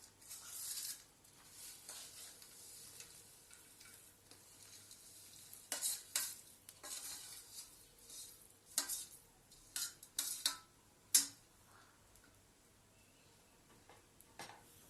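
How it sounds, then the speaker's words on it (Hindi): A spoon scrapes and stirs a panjiri mixture of wheat flour in a pan over low heat, the quiet scraping coming in uneven bursts with a soft background hiss and no talking. "और हम इसे अच्छे से मिक्स करेंगे।"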